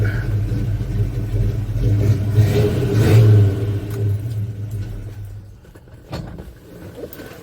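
A 1984 Chevy C10 truck engine idling with a low, steady rumble that swells briefly, then the engine shuts off and a couple of faint clicks and rattles follow, close by.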